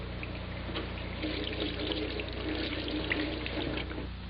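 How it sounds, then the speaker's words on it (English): Romaine lettuce stalks are washed and brushed under a steady stream of running tap water, a continuous close splashing rush with no voices. "wash and brush the stalks under water carefully."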